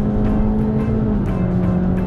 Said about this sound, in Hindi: ओहो it rev still 6500 RPM on D mode.